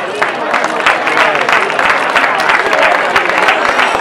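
Crowd applause at the awards for a youth cross-country race in Larraga, Navarra, with loud, dense clapping close by that carries steadily and evenly for several seconds while voices murmur underneath.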